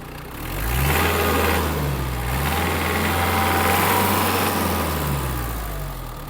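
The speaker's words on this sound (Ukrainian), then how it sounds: "Дуже добра робота двигуна." A Kubota X-20 Japanese mini tractor engine revving up from idle, a close, steady rising drone that holds high for several seconds and then eases back down, with no talk over it.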